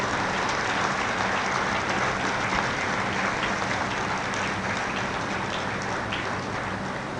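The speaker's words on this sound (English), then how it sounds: "a huge round of applause for these very special people" An audience at a convocation ceremony applauding: dense, continuous clapping from a large crowd, loud and even throughout with no pauses.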